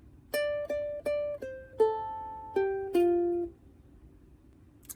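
A ukulele picks out measure 5 of Al Hanissim as seven clear plucked notes, each ringing briefly before the next, the last one held longest before fading into quiet.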